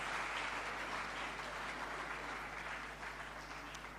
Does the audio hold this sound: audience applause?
yes